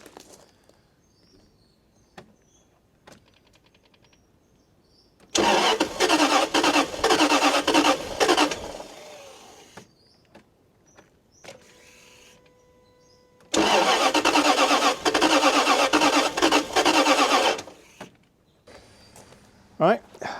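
A Jaguar XK8 engine cranks and fires twice, each start a loud roaring burst of a few seconds that settles and cuts out, with quiet clicks and pauses between them.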